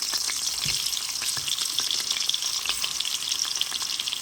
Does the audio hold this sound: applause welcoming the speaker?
no